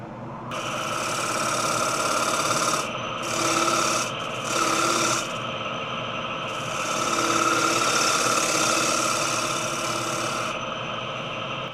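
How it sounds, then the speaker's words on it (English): A cedar bowl turns on a wood lathe as a 3/8 inch bowl gouge cuts it, giving a steady loud rasping hiss that runs nearly throughout. The cut drops out briefly twice in the middle and then resumes. "I'll begin with a 3/8 inch bowl gouge."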